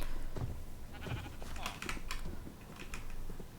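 Sheep bleating in the Minecraft video game, a few short synthetic bleats over soft keyboard and mouse tapping and quiet background noise, with no clear talk.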